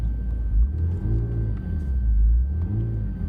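A McLaren 720S or Lamborghini Performante sports car engine revving at full throttle, a loud, steady low rumble with rising and falling surges, close by and without voices.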